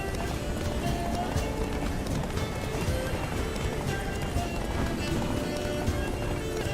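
A horse gallops continuously in The Witcher 3 Blood and Wine expansion, rapid hoofbeats pounding close and loud throughout, with voices occasionally audible over the running.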